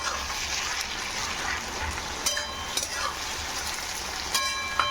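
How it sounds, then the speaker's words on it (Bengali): Onion frying with ginger, garlic and chilli in a pan for a home-style besan dahi chicken, giving a steady broadband sizzle throughout with a few brief clinks or scrapes of stirring near the end. "পেঁয়াজটা একটু ভালো করে ভাজা ভাজা করতে হবে।"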